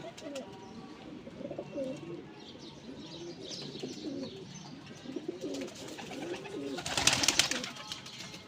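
Pigeons coo softly and repeatedly in a breeder's loft, low rolling calls recurring through the clip, with a brief burst of brighter chirping and rustle near the end.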